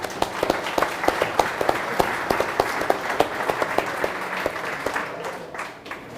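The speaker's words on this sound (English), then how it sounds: "So a round of applause for yourselves." Audience applause at a BMX hall of fame celebration: a steady spread of clapping from a seated crowd that carries on for several seconds, then thins out and fades toward the end, with no talk over it.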